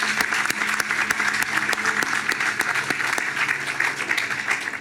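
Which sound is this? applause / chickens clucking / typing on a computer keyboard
applause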